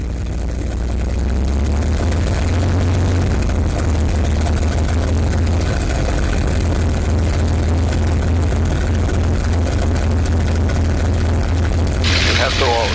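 A P-51 Mustang's piston engine runs steadily at low idle during warm-up before flight, a loud, constant low rumble with a brief rise in the hiss near the end; no voices break through.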